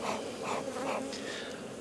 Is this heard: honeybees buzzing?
yes